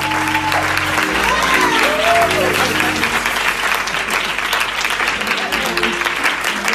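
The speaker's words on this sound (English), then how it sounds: "Clap your hands one more time for them." A church congregation at a Sunday service breaks into loud, sustained applause, full and close throughout, with a voice talking over the clapping at the start.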